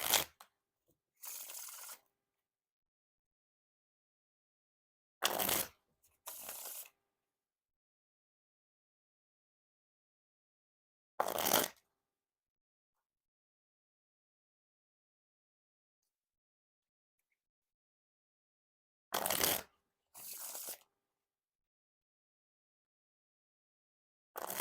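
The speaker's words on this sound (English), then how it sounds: "Now time for the riffle shuffle or bridge shuffle" Riffle and bridge shuffles of a Forest playing-card deck by Orbit: several brief, crisp card-flutter bursts separated by long stretches of silence, with no talking.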